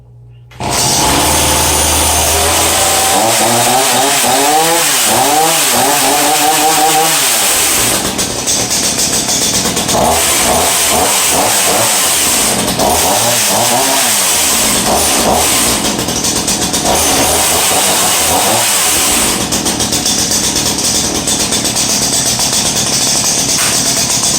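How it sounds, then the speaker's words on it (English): A Ryobi 37cc two-cycle chainsaw with a 16-inch bar runs loud and close, its engine revving up and down in repeated rising and falling surges, then settling into a steady drone. "Now we're going to change the choke to run."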